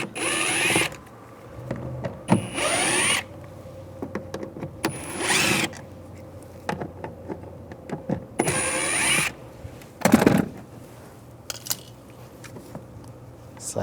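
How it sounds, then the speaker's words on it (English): Screws being driven out of a 2011-2018 Ram 1500 rear door speaker with a 5mm socket, heard as several short whirring mechanical bursts separated by quieter clicks and handling noises. "take all these screws out"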